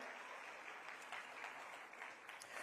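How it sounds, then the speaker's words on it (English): An audience at a Girls in ICT Day expo claps for Professor Dunn. The applause is faint, steady and even, sounding distant, with no voices over it. "You can clap him, yes, you can clap Professor Dunn"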